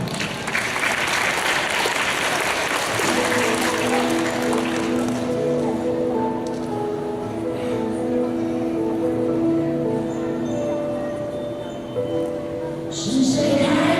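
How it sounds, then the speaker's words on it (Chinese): A school audience at a Mother's Day evening show claps loudly and steadily, welcoming a class's song performance. After about three seconds the applause gives way to music and singing, which continue under the last clapping. "掌声欢迎"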